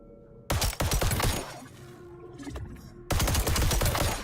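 Rapid automatic gunfire from the video game The First Descendant rattles in two dense, loud bursts, separated by a quieter stretch of scattered shots and game effects.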